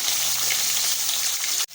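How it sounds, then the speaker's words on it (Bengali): Fish pieces fry steadily in hot oil in a home kitchen, a loud close crackle and hiss that holds evenly before cutting off abruptly near the end. "ওইদিকে মাছ ভাজাটা চলছে"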